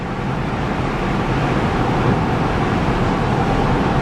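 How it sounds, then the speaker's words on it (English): Steady, loud wind roar inside a 2009 Smart Fortwo Passion coupe cruising at about 70 mph, a constant broadband rush mixed with road noise and no voices. "Wind noise is average."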